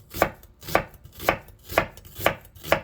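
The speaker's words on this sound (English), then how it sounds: "you want to start off at an angle and just chop" Kitchen knife chopping food on a cutting board in six steady, evenly spaced strokes, close and crisp, with no talking.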